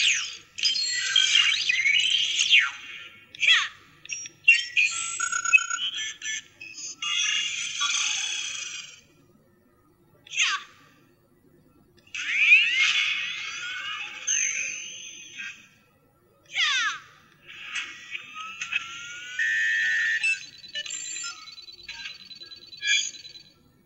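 Pressing button 1 on an Ejen Ali Project I.R.I.S toy gadget sets off a string of thin, bright electronic chirps, warbles and beeping tones, played back close in several bursts separated by short silences.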